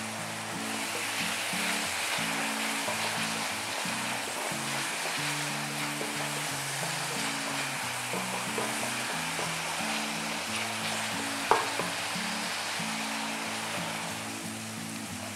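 Onion frying with ginger garlic paste in a pan for egg thokku gives a steady, dense sizzle that holds evenly throughout, with one brief sharp clink near the end and no talking.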